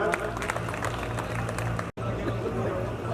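A crowd at a graduation ceremony gives a dense, steady round of applause, loud and sustained, broken by a brief moment of silence midway before it resumes with murmuring voices mixed in.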